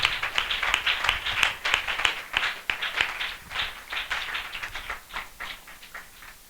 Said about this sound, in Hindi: हम जोरदार तालियों से आत्मिक उत्साह की सभा में उनका स्वागत करें